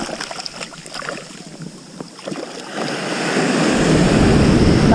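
Surf washing over a sandy beach while a baby halibut is rinsed at the water's edge, waves swelling louder and steadier in the second half, with wind buffeting the microphone.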